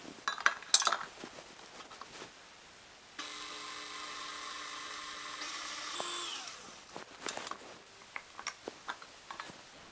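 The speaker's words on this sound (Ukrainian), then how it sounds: "Сюди додаємо цукор та збиваємо міксером до пишності." An electric hand mixer whips butter with sugar for a Victoria sponge cake. It runs as a steady whirring drone for about three seconds, with clinks of utensils against a bowl before and after.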